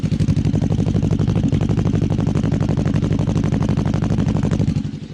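Voge 525DSX motorcycle fitted with an aftermarket exhaust and dB killer, running steadily close by with a deep, throbbing, even exhaust note that holds loud throughout before easing slightly at the end.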